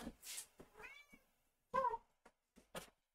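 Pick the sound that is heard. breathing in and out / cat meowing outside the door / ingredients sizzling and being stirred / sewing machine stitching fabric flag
cat meowing outside the door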